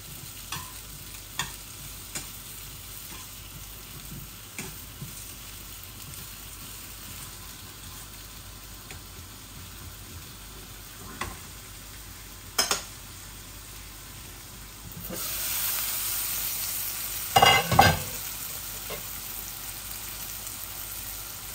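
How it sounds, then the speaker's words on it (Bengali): Spices fry in a little oil, with a quiet, even crackle and scattered utensil scrapes. The sizzle grows louder near the end, and a couple of sharper clatters follow, with no talking. "এই দেখুন আমার মশলাগুলা ভাজা ভাজা হয়ে গেছে।"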